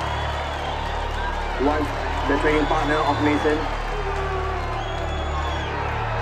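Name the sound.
boxing arena crowd cheering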